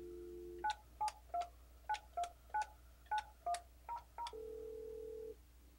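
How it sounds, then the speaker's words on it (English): Keypad dialing tones from an Alcatel-Lucent ALE-300 desk phone: about ten short, evenly paced DTMF beeps in a quick sequence, then one longer steady tone, clear and close with no talking. "just dial the number that I'd like to call"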